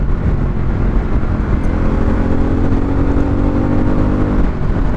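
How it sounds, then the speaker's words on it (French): A Harley-Davidson motorcycle engine running hard at high revs, a steady loud droning roar with a rising whine, close and continuous throughout. "Et elle fait pas énormément plus de bruit à haut régime,"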